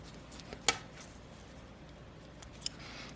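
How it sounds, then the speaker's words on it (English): Scissors snip off excess thread after sewing an invisible zipper, giving a couple of brief, quiet metallic clicks over faint room noise. "pull it out, trim off all my excess thread."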